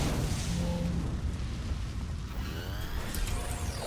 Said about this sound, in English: I brought my big cannon.